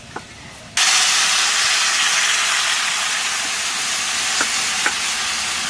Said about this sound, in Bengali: আলু ভাজা হয়ে গেছে, আমি জল দিয়ে দেবো।